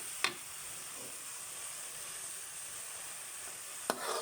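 Bamboo shoots stir-fried in a pan with fermented fish sauce (pla ra) give a steady, even sizzle, broken near the start and the end by two sharp utensil clicks against the pan; no voices.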